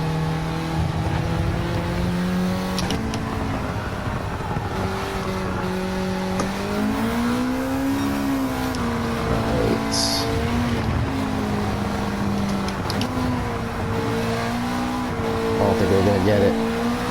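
Honda Civic Type R FL5 driven hard through the S-bends of a short track circuit, engine droning and rising in pitch through the gears, heard from inside the car with someone talking over it.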